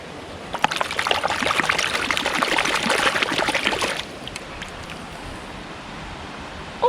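Water splashes and trickles as a mudlarking find is rinsed in the River Thames, a busy pouring wash for about four seconds that then stops, leaving quiet outdoor ambience.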